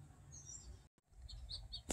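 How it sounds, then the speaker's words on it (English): A scrub jay passing through a garden gives a few faint, high chirps over a low background rumble, ending in one sharp, louder call. "that bird that just went by? That's a scrub jay"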